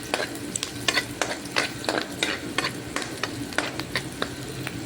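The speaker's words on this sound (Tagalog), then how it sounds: "Then once na madry na po yung bawang at saka sibuyas, sige pa po, gisa pa ng gisa." Garlic and onion sauté in a pan for lunch, a spoon or spatula scraping and clacking in a quick irregular rhythm over a soft continuous sizzle, close and alone without talk.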